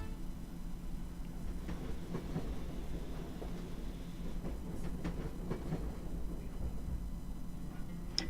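A train rolls along the tracks in the video game Where the Water Tastes Like Wine, a steady low rumble with faint irregular clacks and rattles of the cars, continuous and moderately quiet, without any talk.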